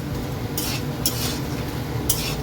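Bori lentil dumplings frying in oil, a continuous low sizzle with three bright scraping bursts from stirring, close and steady.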